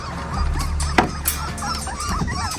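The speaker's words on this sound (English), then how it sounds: "These are beagles." Beagle puppies, a litter of fourteen, whimper and yip close by in an outdoor country setting, with short high cries scattered over a steady low hum and a sharper yelp near the middle.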